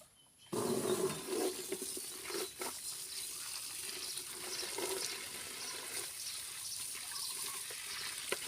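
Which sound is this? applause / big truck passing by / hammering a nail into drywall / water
water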